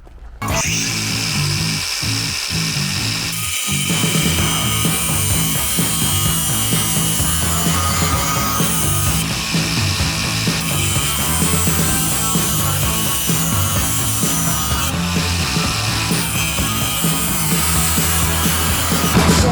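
DeWalt DCG418 54V cordless angle grinder cutting, a loud, close, continuous harsh whine and grinding roar that holds steady for many seconds after a brief start-up; no talking.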